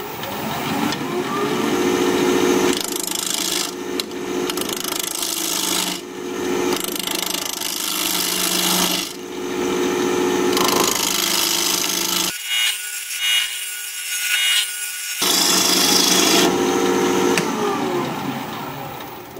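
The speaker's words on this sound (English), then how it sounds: "we're going to be turning at 1550 RPM, 1/2-inch bowl gouge" Wood bowl turning on a lathe at 1550 RPM with a half-inch bowl gouge, loud sustained cutting and rubbing over the motor's hum, with pauses where the tool lifts off and a quieter gap midway.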